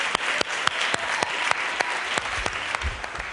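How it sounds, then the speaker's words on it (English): A conference audience claps at a school transformation event, steady applause with a few sharp, distinct claps standing out near the front, continuous throughout. "Yeah, that's worth clapping."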